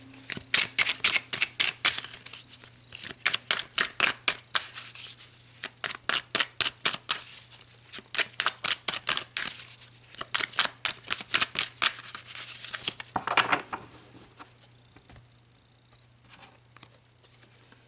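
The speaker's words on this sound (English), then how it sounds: "let's pull some more cards" Tarot cards being shuffled and pulled, heard as rapid rhythmic riffles and flicks in repeated bursts, close and crisp, over a faint low hum, with no talking.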